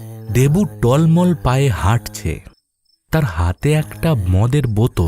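Crickets chirp in a steady, faint drone on a still night beside a village cremation ground, running under a narrator's storytelling voice.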